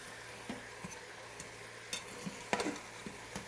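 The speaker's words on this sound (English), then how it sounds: "Gonna go ahead and stir that up." Green onion whites stirred in an Instant Pot, heard as quiet intermittent scrapes and soft clacks of a spoon against the pot over a faint steady hum, with no one speaking.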